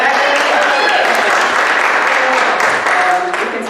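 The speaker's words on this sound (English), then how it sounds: "I gotta clap" Congregation at a Sunday church service clapping together, a dense, loud, continuous wash of applause that carries on steadily before easing slightly at the end.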